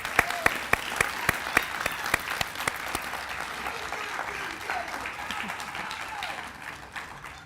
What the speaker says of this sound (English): We can give them one big round of applause again